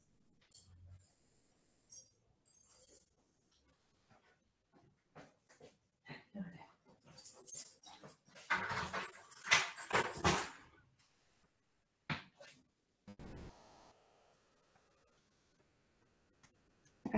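Indoors, a dog whines and whimpers in bursts near a closed door, wanting to go outside to run. The cries come close and irregular, loudest and most sustained midway through, with quiet gaps between.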